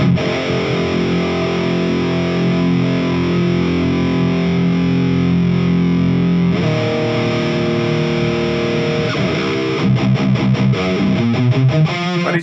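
Heavily distorted electric guitar through a Mesa/Boogie Dual Rectifier tube amp, chords ringing out loud and sustained, then changing to choppier, rhythmic metal strumming near the end.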